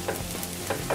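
Garlic frying in two tablespoons of hot oil in a kadhai for chicken chilli, a steady sizzle with soft stirring scrapes, close and continuous over a short moment.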